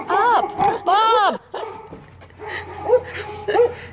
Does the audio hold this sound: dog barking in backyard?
yes